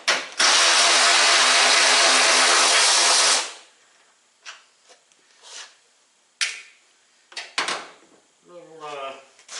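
Power tool, likely an impact gun, buzzes loudly and continuously for about three seconds while removing top fender bolts on a 2015 Toyota Tacoma under collision repair, then stops; clunks and handling noises and a man's speech follow.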